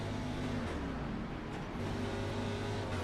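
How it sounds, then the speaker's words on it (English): Race car engines in the iRacing video game at Daytona, a steady loud droning roar with held engine tones, no talk. "I love the sound of these cars."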